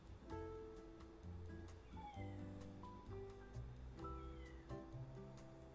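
A pet cat named Ollie meows repeatedly from inside a cage, its calls rising and falling over steady background music and game sounds.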